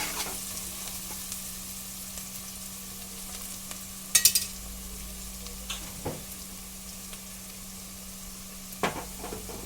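Onions for a beans and tomato curry fry softly in a pan under a low steady sizzle, with a few sharp spoon scrapes and clinks as they are stirred now and then.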